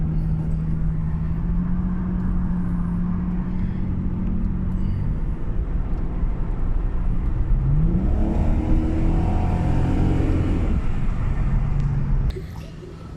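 A Jaguar S-Type with a 3-litre V6 drives along, its engine droning steadily and close, with a gear change and a rising rev partway through before the sound drops away at the end.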